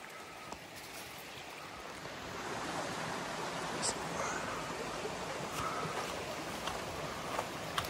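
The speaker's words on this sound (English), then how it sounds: "And here's one of the stream crossings." Water rushes at a stream crossing on a hiking trail at Kelly's Run near Holtwood, Pennsylvania, a steady, moderate wash of flowing water that continues without a pause.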